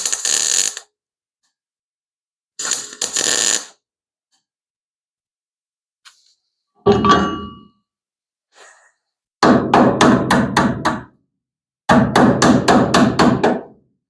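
Hammering a sheet-metal tail panel patch on a 1975 Plymouth Duster: loud, close bursts of rapid metallic blows separated by silences, with a few scattered single knocks between them.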